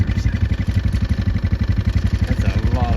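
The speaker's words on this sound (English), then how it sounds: "That's a lawnmower, by the way." A lawnmower mowing a field of about 60 acres, its engine running close and steady with a rapid, even clattering pulse throughout, with no talk over it.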